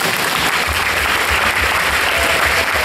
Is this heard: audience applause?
yes